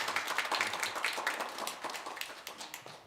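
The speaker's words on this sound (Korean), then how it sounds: "감사의 박수 한번 보겠습니다" Applause from a church congregation during a Sunday worship service, steady dense clapping for the whole stretch that thins slightly toward the end, at moderate level with no talk over it.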